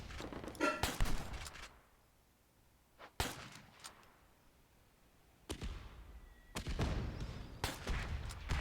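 Mortar fire and explosions in a video game arrive in several sharp, loud bursts with short rattling volleys, separated by quieter gaps with faint background rumble.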